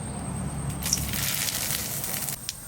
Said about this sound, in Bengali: খিচুড়ি ফোড়ন দেওয়ার জন্য সরষের তেল দিয়ে দিচ্ছি, শুকনো লঙ্কা, তেজপাতা